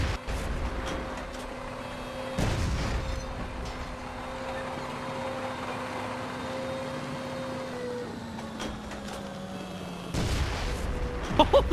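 A tank in Half-Life 2 fires heavy booming shots, a few loud, separated blasts punctuating a lower ambient hum with a sustained droning tone between them.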